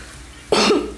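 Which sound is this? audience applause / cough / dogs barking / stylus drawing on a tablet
cough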